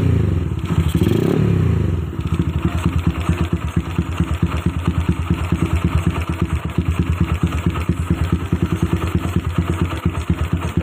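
Motorcycle engine idling steadily below 1000 RPM, set up with a PWK32 carburetor and a stable tensioner; a loud, even low thumping pulse runs throughout, preceded by a brief rev swell in the opening two seconds.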